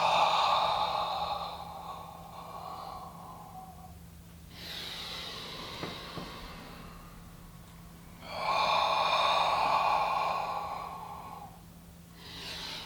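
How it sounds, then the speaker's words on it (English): Long, slow breaths during a posture breathing exercise, two drawn-out airy exhales separated by quieter pauses, close and clear with no talking. "and then exhale."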